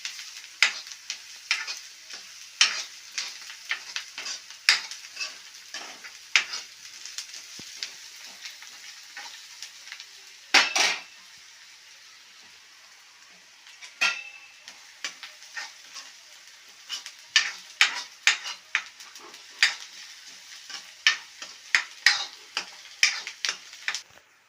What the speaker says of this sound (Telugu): కొంచెం పసుపు వేసి దీన్ని మనం మంచిగా మిక్స్ చేసుకోవాలి.